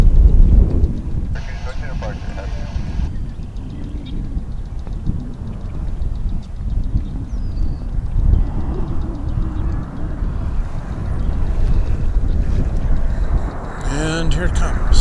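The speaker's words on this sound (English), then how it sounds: "we will be seeing Flight 571, an A319," An Airbus A319 on approach to a runway at DFW Airport makes a distant, low rumbling roar that swells gradually over a busy outdoor background, with people talking intermittently nearby.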